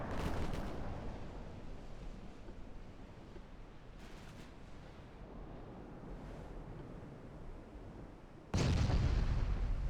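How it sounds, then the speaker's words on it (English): In the naval video game Ultimate Admiral Dreadnoughts, dense continuous booming rumbles from turrets exploding roll on like surf. A loud burst near the end is the strongest. No speech. "all of those turrets exploding"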